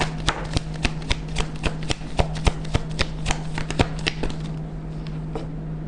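A tarot deck being shuffled and cards drawn: a close, regular series of sharp papery snaps and flicks over a low steady hum, tapering off toward the end.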